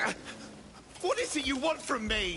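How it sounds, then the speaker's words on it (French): Dog whimpering and whining in the video game Crimson Desert, a series of high, wavering cries rising and falling over about a second, close and fairly loud, following a short faint stretch at the start. "Pas libérer le chien."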